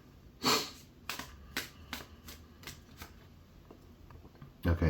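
Tarot cards being shuffled by hand, a quick riffle burst followed by a string of soft, spaced flicks and slides, close and fairly quiet with no talking.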